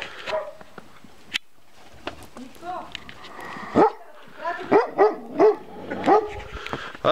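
Dog barks and yips in short bursts at a Bulgarian outdoor gathering, several close barks in the second half mixed with people talking and a faint whimper.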